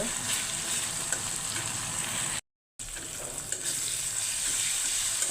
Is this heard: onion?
yes